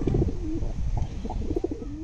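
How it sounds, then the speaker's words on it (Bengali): Two pigeons born inside Jessore Central Jail coo close by, a series of soft, low, rolling calls repeating several times with no voices. "রাজা আর যাদব দুটি কবুতরের নাম"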